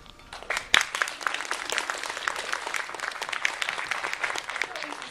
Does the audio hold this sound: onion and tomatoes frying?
no